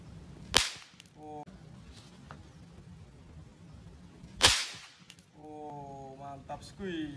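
A thrown toy rocket fitted with a cap bullet cracks sharply on landing, two loud bangs several seconds apart, with people talking in between.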